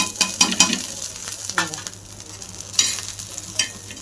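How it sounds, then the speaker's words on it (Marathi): Dried red chillies roasting in a hot pan with a little coriander seed, stirred in quick scraping strokes over a steady sizzle, close and fairly loud with no talking. "मिरच्या चांगला खरपूस भाजून घेते"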